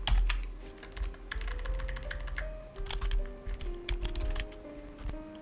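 Rapid bursts of clicking on a computer keyboard while writing Python code, close and fairly quiet, with brief pauses between runs of keystrokes and a faint background tone.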